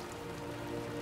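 Heavy rain pours steadily over a funeral at a casket in a cinematic game prologue, a dense continuous hiss that stays close and even throughout, with no voices.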